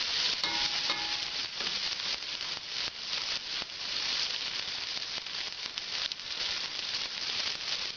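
Tomato cooks down in hot fat in a very hot pan for chicken cacciatore, a steady broad sizzle and hiss with occasional stirring scrapes, close and continuous with no talking.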